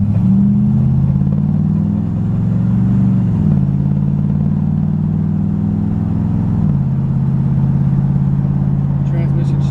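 A steady low engine drone from a 1972 Corvette on the move, with a couple of gear-change dips in pitch, loud and continuous throughout.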